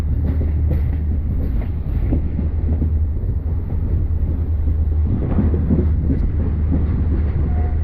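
Sri Lankan passenger train running on its rails, a steady low rumble with rhythmic wheel clatter and faint wind buffeting throughout.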